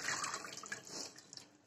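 Water is poured into a pan while making semiya rava kichadi, a quiet, close splashing trickle that tapers off over a couple of seconds.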